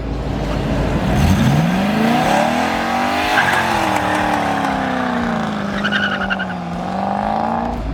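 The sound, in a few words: car doing a burnout with tire squeal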